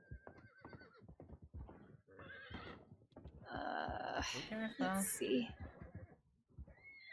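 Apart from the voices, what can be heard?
horse whinnying in video game Red Dead Redemption 2 (WildRP)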